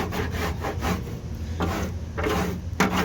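Repeated rough scraping strokes of a coarse rasp shaving body filler on a Nissan S14 wheel well, steady back-and-forth rhythm, close and fairly loud.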